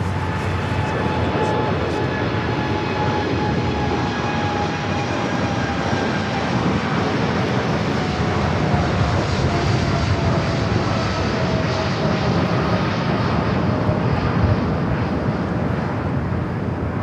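A Boeing 747-8 freighter rolls down runway 25 Left at Los Angeles airport, its jet engines a loud, continuous broadband roar with a high whine, steady throughout.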